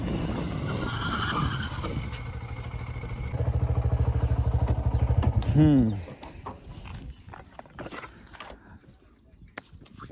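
A Honda Hornet 125 motorcycle brakes hard during a braking test, its engine note rising and then dropping sharply into a brief squeal. Scattered clatter and quieter background noise follow once it stops.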